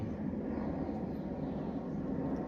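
A fixed-wing airplane passes overhead as a steady, broad engine rumble that stays even and fairly prominent throughout.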